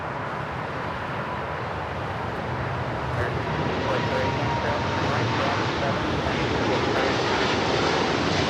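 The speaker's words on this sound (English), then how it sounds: "DHL taking off to Honolulu on the" A DHL Boeing 747-8 freighter takes off from Los Angeles toward Honolulu, a loud, sustained engine roar building slightly over several seconds, with a person talking over it.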